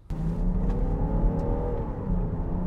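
A turbocharged Ford with an electric supercharger pulls away, engine revving up quickly and steadily from close range with no one talking.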